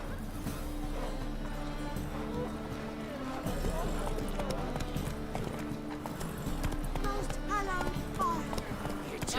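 Roach the horse galloping in The Witcher 3, a dense continuous clip-clop of hooves under steady game music and ambience, with a brief whinny near the end.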